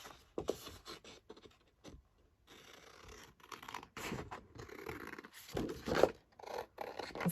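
Paper is cut and handled to make pockets for a folio, with close, quiet scratching, snipping and rustling in short irregular bursts separated by brief pauses.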